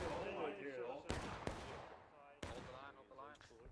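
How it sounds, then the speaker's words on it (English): A cannon shot in the War of Rights Civil War video game on the Bolivar Heights map booms out amid sharp bursts of gunfire, heard beneath continuous commentary. "There's a cannon shot."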